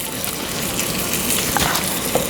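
Masala being stirred with salt and oil in a miniature pan in a tiny toy kitchen, a steady close sizzle with small scraping stirs and no speech.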